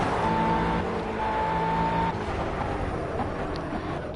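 Race car in the driving game Project Cars accelerating hard, its engine holding a buzzing, sustained whine with a second tone joining partway, then fading into rushing road noise, with no one speaking.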